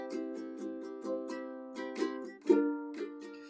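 Bright ukulele chords are strummed in a steady, lilting rhythm, each strum ringing into the next as the chords shift, played close and alone.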